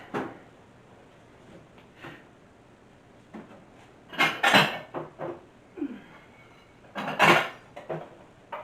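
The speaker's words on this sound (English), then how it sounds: "I only have these giant baking pans left, so I guess that is what I'm going to use." Large metal baking pans and a bowl handled in a home kitchen: scattered clanks, scrapes and rattles, a few loud sharp knocks in two clusters, with quiet gaps between and no talk.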